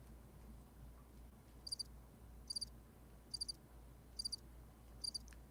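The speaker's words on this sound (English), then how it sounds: "That's crickets, baby." Crickets chirping in five short, evenly spaced high trills, each a quick pulsed burst, over a quiet low hum with no other sounds.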